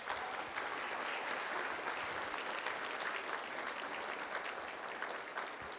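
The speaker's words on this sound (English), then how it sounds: "But how about a big round of applause for Andrea Ortiz?" Applause from an audience at a high school college signing ceremony, a steady, even patter of many hands clapping for about six seconds, fairly distant and without talk.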